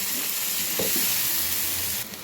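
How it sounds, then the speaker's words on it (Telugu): Tomato, coconut and cashew masala puree with poppy seeds, cinnamon and cloves frying in oil in a pan, giving a steady close sizzle throughout with a couple of brief stirring scrapes. "ఈ ప్యూరీ బాగా వేయించుకోవాలి"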